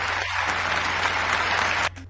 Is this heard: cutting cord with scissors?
no